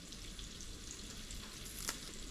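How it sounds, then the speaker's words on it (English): Onions sizzle and fry in a pan for Maltese fried lampuki, a steady soft hiss and crackle, close by and quiet with no voices over it. "It's frying nice, the onions."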